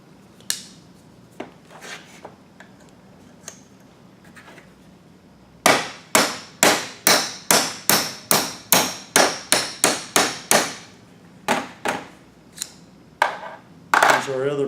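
A door hinge pin is driven out with a rapid series of about a dozen sharp, ringing metal taps, close and loud, preceded by scattered softer knocks and followed by a few more strikes.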